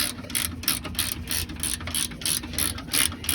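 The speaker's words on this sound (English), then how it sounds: "the bolt is working its way in" A ratchet wrench clicks rapidly and steadily, close by, as a bolt is tightened during repair work on a Ford Mustang.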